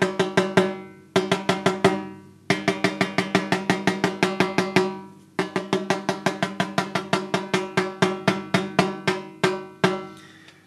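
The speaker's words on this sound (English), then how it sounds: "I'm just going to take my key, lightly tap." A drum key lightly taps the head of a snare drum with the snares off, making a long series of bright, ringing, pitched ticks in quick even bursts with short pauses between groups, close and clear.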